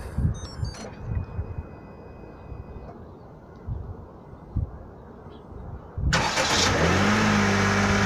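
A Honda N-WGN Custom is started by remote start: after quiet clicks and beeps, the engine catches near the six-second mark and settles into a steady, close idle.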